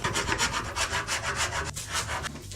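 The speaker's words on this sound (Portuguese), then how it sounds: "Pego uma lima." Hand file rasping steadily across wood while building a wooden hand ladder, a close, rhythmic series of rough back-and-forth strokes with no talking.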